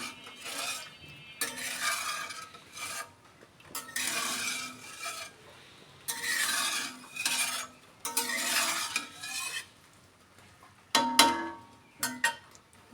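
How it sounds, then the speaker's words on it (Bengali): Salt and turmeric being mixed into raw hilsa fish, heard as bursts of scraping and clattering against a pot or bowl with short gaps between them, close and moderately loud, with no talk. "এখন লবণ আর হলুদটাকে ভালো করে মিশিয়ে দিচ্ছি"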